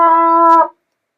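A single trumpet note blown with an unclear beginner's tone, held steady for about half a second and then cut off abruptly, close and loud, followed by silence.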